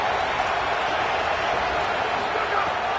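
A stadium crowd roars on third down in the College Football 27 video game, a dense and steady wall of loud crowd noise that holds without a break.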